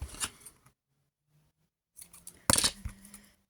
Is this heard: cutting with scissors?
yes